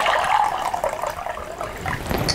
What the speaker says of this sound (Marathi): त्या भांड्यात आपण पाणी घालूया